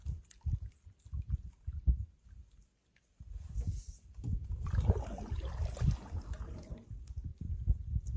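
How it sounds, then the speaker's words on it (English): Canoe paddle strokes pulling through lake water near an island, low sloshing splashes in a loose rhythm under steady wind buffeting the microphone, with no talk. "I'll have to do just a little left side paddle every now and then."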